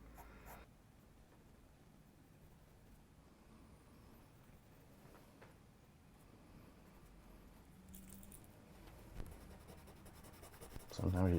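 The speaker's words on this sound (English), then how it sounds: "I'll do a bit of super rough sketching, just really like scribbly" Rough, scribbly pencil sketching on paper: continuous soft scratchy strokes up close and fairly quiet, with a few louder taps and shuffles near the end.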